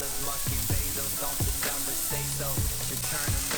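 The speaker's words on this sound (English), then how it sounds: "over medium-high heat, just gonna get these on. And the plan is to give these a good sear" Pork chops sear over medium-high heat on a grill, giving a steady, close sizzle with small crackles and pops throughout.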